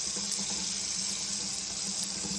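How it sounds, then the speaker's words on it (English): Cold tap water runs steadily into a sink while hands are wetted before stretching and folding sourdough, a close, continuous splashing hiss with no speech. "wet my hands in cold water"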